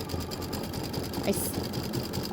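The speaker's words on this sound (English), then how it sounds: "This is just going to do the decorative stitching." An embroidery machine stitching a decorative pattern for a Christmas poinsettia project hums steadily with a fast rhythmic needle chatter, close and continuous, and a voice speaks briefly over it.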